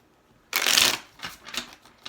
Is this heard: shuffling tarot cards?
yes